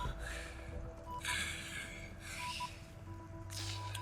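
Heavy breathing comes through in a few long, loud, breathy gasps over steady background hum during a Hitman (2016) session.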